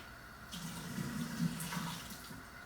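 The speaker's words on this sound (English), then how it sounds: "I'm just emptying the water that was in them" Water splashing and pouring as it is emptied out of canning jars before canning potatoes, a soft close trickle that is fairly quiet and continuous for a couple of seconds.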